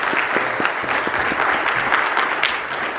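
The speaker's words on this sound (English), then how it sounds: "Can we give them a round of applause?" A round of applause from a gathered audience, with dense, continuous clapping at an even level and a few sharper individual claps standing out.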